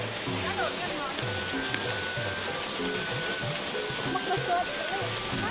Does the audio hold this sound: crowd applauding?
no